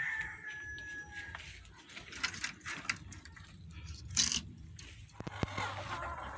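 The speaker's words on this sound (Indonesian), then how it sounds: "Riuk pikuknya ayam itu ya di sini." Free-range laying hens in a colony coop cluck and squawk at close range, scattered irregular calls over a busy, scratchy background with a few louder bursts and some rustling.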